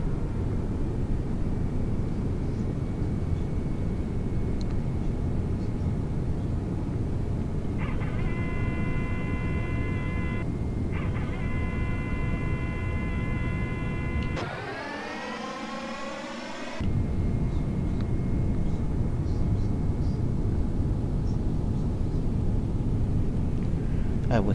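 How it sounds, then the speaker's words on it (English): Aircraft engines on final approach in Microsoft Flight Simulator X, heading into Perpignan, France: a steady, loud jet drone that holds throughout, with electronic cockpit tones breaking in and a brief sweeping whoosh partway through. "we will now begin to slow the aircraft dramatically and bring in the flaps ready for landing gear"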